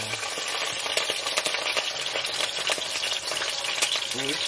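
Peppers and onions fry in a hot pan with a steady, close crackling sizzle and sharp pops throughout.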